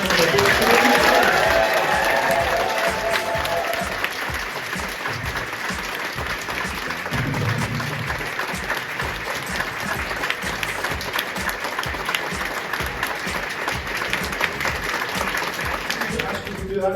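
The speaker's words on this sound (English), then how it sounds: "Can you please give a huge round of applause?" A Doctor Who appreciation society audience applauds for a sustained stretch, dense clapping that swells loudest at the start and then holds steady with some crowd voices mixed in.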